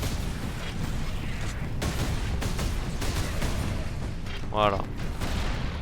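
Gunfire at orks in Warhammer 40,000: Space Marine, with dense bursts and booms blended into a loud, continuous game mix, while someone speaks briefly over it.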